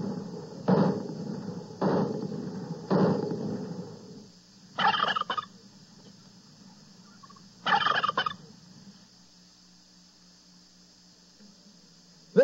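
Turkey gobbles from a 1978 Thanksgiving radio turkey shoot contest on KTIB: three loud, evenly spaced gobbles, then two shorter, sharper bursts after a pause, with a faint hum trailing off between them.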